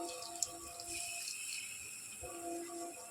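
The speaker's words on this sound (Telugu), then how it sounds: "కొద్దిగా వాటర్ పోస్తున్నానండి" Water is poured steadily from a small glass into a cooking pan of softened onions for a dried shrimp and tamarind leaf curry. It makes a continuous close trickle that pauses briefly midway, with no voices.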